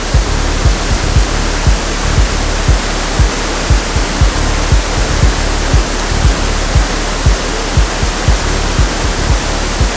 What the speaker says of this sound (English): Time to get in the waterfall.